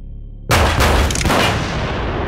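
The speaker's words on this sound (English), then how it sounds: "Did you hear those gunshots?" A loud, sudden burst of gunfire-like booming starts after a short quiet lead-in, with dense, roaring noise sustained for nearly two seconds and no voices.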